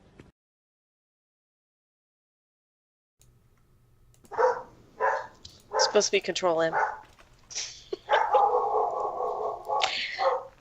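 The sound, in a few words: pet dog barking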